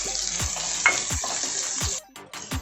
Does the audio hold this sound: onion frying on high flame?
yes